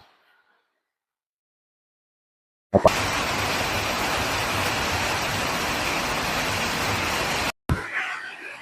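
Steady, dense hiss of rainy-season rain on a farm starts abruptly after a few seconds of silence and pours on evenly, close and loud, then cuts off briefly near the end.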